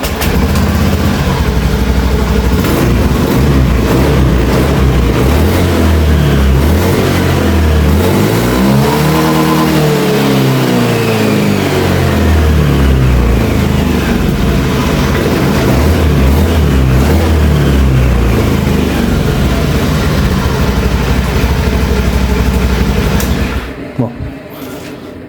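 Motorcycle engine revved hard while raised on its center stand, a close, loud idle that climbs into a long rising and falling rev before settling back, with someone talking over it; the bike hesitates and stutters when ridden.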